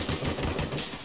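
Rapid gunfire from a weapon in a Middle East war video game, a brief, loud, continuous burst of shots close up.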